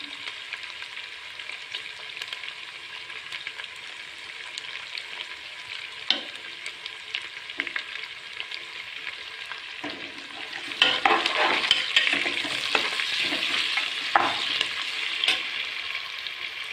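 Washed rice fries in ghee in a pan, giving a steady soft sizzle under scraping stirs that grow louder and busier toward the end.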